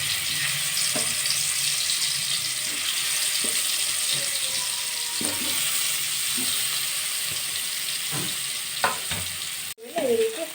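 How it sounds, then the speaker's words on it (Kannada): Paneer pieces fry in hot oil on a tawa with a steady close sizzle, broken by light clicks and scrapes as pieces are set down and turned, with no talk. "ಎಣ್ಣೆ ಕಾದಿದೆ ಫ್ರೆಂಡ್ ಈ ಕಲಸಿರುವುದನ್ನು ಪನ್ನೀರನ್ನು ಒಂದೊಂದಾಗಿ ಈ ಹಾಕೊಳ್ಳಿ"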